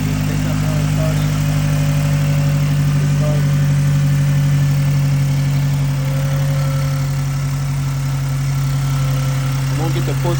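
A car engine idles steadily and loudly at close range on its first start after a VVT solenoid and valve cover install, a constant low hum with no break.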